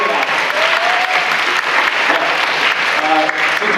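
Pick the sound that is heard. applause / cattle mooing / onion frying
applause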